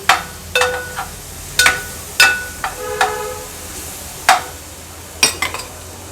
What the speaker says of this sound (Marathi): आता वाटण तेलावर छान परतून घ्यायचं आहे आपल्याला